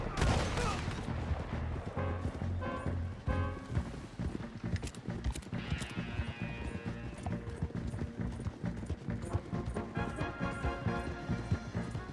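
Gunshots crack amid dense Red Dead Redemption 2 gameplay audio, with horse hooves clip-clopping, music and shouting voices throughout, shots scattered irregularly over a busy mix.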